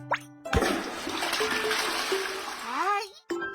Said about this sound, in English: Remember to flush the toilet.